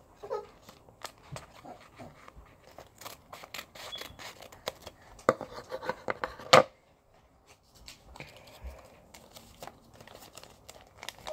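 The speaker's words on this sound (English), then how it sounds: "And then we're gonna cut this part." Scissors cutting paper while folding a paper ninja star, with scattered close snips and paper rustling and crinkling, a sharper burst of cutting midway, then quieter handling.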